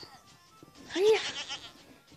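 A goat in a goat rampage video game gives a short, loud bleat, mixed with a voice and game noise.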